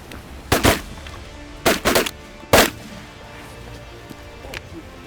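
Shotgun blasts ring out during a morning mallard duck hunt: about four loud, sharp reports in quick clusters, fairly close, then quiet outdoor background.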